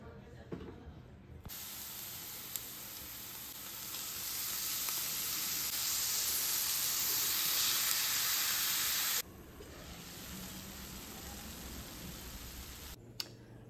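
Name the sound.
frying onion, chilli and beetroot in oil in a pan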